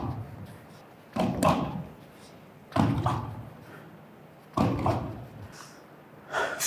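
Kickboxing uppercut punches striking a door, landing as three heavy thuds spaced a little over a second apart, with breathy exhales between, close and fairly loud.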